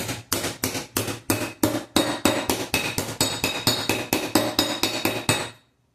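A flat hammer strikes a metal scuttle panel on a MKIV Ford Zodiac classic car. About twenty sharp, ringing blows land close and loud in a steady, quick rhythm, then stop.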